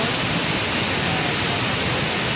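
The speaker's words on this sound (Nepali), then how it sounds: "खोला चाहिँ यसलाई भन्छ क्या।" Loud, steady roar of rushing water at a waterfall stream in Udgir, a dense, unbroken wash of sound heard close up with no voices over it.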